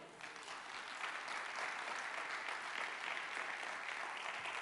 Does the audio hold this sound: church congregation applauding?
yes